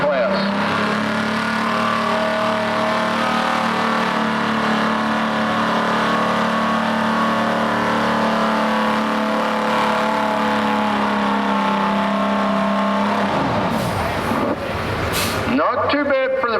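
A big diesel semi truck engine in a Limited Pro Stock truck pull roars loudly and steadily, droning with a heavy low rumble for a long stretch before a burst of revving noise at the end.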